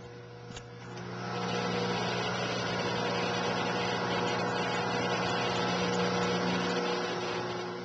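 Exhaust ventilation fan switching on in a microhydro turbine station's confined space, a quieter stretch giving way to a steady, loud mechanical drone with strong humming tones that holds without pause.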